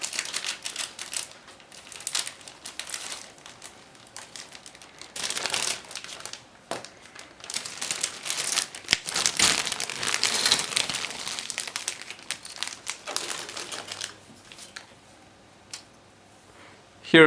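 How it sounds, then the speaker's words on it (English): A plastic bag holding plastic sprues for an Eduard 1/48 aircraft model kit is opened up close, with loud bursts of crinkling and rustling plastic and scattered small clicks and ticks. "Then we have another last bag with plastic sprues. Just give me again a moment to open it."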